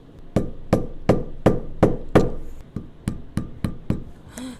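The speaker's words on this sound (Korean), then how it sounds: "구멍을 한번 뚫어 보도록 하겠습니다" A metal pricking iron is struck with a mallet to punch stitching holes in leather for a trunk name tag, giving about eleven sharp, evenly spaced knocks, close and loud, with a faint scrape at the end.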